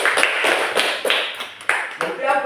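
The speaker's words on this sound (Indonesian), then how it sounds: "tepuk tangan untuk kita semua." Classroom applause from a group of students in a computational thinking and coding lesson, a dense patter of many hands clapping steadily at close range with brief stronger bursts, with voices talking over it.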